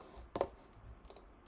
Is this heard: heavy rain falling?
no